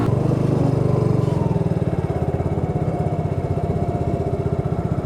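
A Suzuki Gixxer SF motorcycle rumbles through city traffic, its single-cylinder engine throbbing steadily at a near, loud, even pulse with slight variations in revs.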